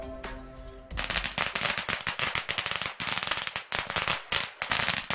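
A rapid string of firecrackers bursts loudly and continuously at a village stone-worship ritual on a hillside, dense cracking pops following a brief quieter start.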